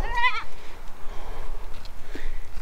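A goat on a farm gives one close, wavering bleat at the start, followed by faint rustling and small movement sounds in the brush.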